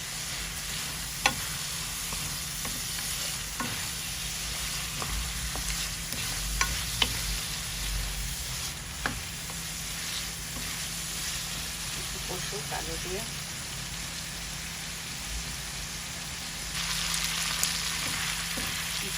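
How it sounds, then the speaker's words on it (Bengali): Potatoes sautéing and being stirred in a pan for a Bengali spinach and prawn curry: steady frying sizzle throughout, with occasional spoon scrapes and clinks, close and moderately loud, growing slightly louder near the end. "জাল দিয়ে দিলাম আলু দিয়ে আবার একটু কষাই দিই"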